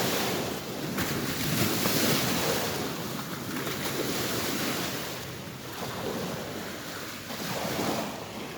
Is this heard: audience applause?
no